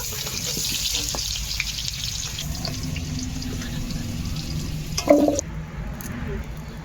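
Potatoes for a meat curry frying in a pan until reddish brown, a close, continuous sizzle with a wet, watery hiss and a sharp clatter near the end as they are lifted out.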